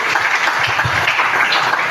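A church congregation applauds, a dense, steady wash of clapping from many hands that fills two seconds without a break.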